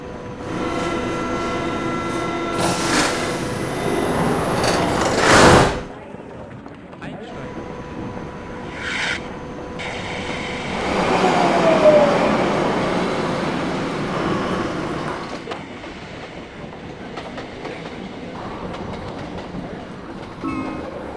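Berlin U-Bahn U7 subway train departing in the Trainz video game, with a sharp door chime and a warning tone, then the train rumbling and whining as it pulls away, steady and fairly loud with faint announcements.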